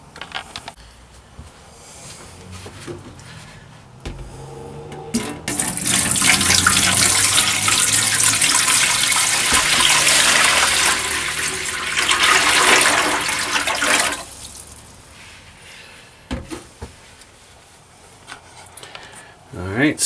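Water gushes into a sink in a DIY travel trailer, a loud steady rush lasting several seconds before it cuts off, with quieter clunks and handling noises around it.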